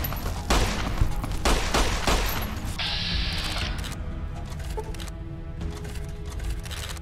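Modded Fallout: New Vegas gunfight with bursts of rapid gunshots and mechanical clatter, dense volleys in the first few seconds easing into scattered shots and a steady background rumble.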